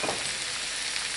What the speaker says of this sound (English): And this has got to cook. It's coming up to steam. See, it's boiling already.